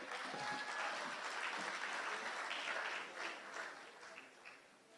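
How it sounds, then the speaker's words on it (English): Audience applause at the 2017 National Youth Awards ceremony in Dominica for Miss Jade Romain, steady, dense clapping from a crowd that thins and fades toward the end. "So a round of applause for Miss Romain."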